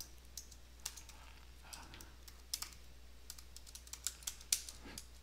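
Keys on a computer keyboard are tapped in scattered bursts of sharp clicks at close range, with brief pauses between them over a low steady background hum and no talking.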